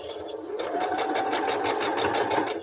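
A sewing machine stitching fabric runs steadily in a fast, even rhythmic chatter for most of the short stretch, close and moderately loud with no talk over it.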